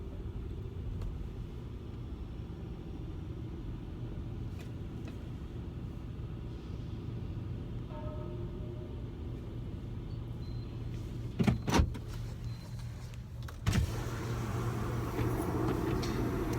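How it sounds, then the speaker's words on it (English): A car engine idles steadily as a low constant rumble, with a couple of brief clunks and a power-window whir partway through, no talking. "Do I need to turn the car off?"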